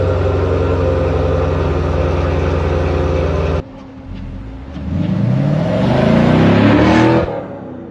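A 2019 Chevrolet Camaro SS with its stock exhaust: a loud, steady engine note, a brief dip, then a rising rev that swells for about two seconds before dropping away, with no talking.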